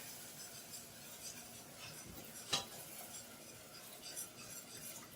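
Steady whisking of milk into a butter roux for a cheesy holiday sauce, a soft continuous scraping and swishing with one brief sharper clink near the middle, close and alone.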